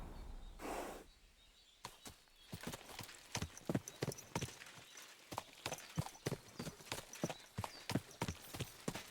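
Horse hooves clip-clop steadily in Kingdom Come: Deliverance II, a run of sharp, evenly spaced hoofbeats starting after a brief pause and continuing near and clear to the end, with no talk over them.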